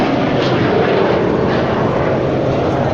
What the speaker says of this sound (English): This is a de Havilland Caribou.